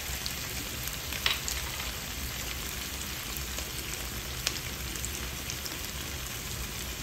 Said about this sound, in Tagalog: Lagyan na natin yung ating oyster sauce.